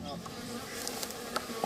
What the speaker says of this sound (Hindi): जहां मधुमक्खियों का परिवार शहद बना रहा है